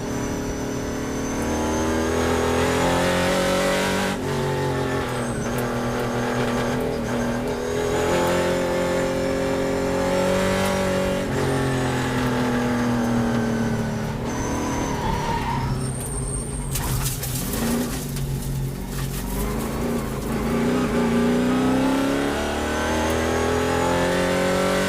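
A race car engine revs loudly and continuously, rising and falling through gear changes as it closes on the third-place car ahead, with a sharp higher whine around the middle.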